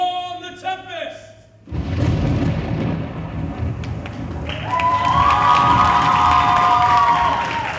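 A theatrical thunder effect rumbles through a staged storm scene in a production of The Tempest, with a sustained heavy roar and a rising tonal sweep layered on top after a brief musical passage.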